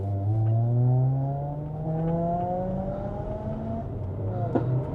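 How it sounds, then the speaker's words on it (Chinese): A Proton eMas 7 PHEV Premium in power mode climbs toward Genting in Malaysia, its engine note holding high revs with harmonic tones that slide upward, a steady drone inside the cabin with no speech. "我的车过了 bump 之后，这个 power mode 好像在拉高转速一档这样子哦"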